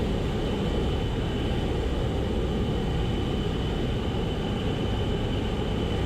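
A small training airplane on a crosswind landing approach at around 70, its engine and airflow making a steady, loud, unbroken drone throughout with no talking.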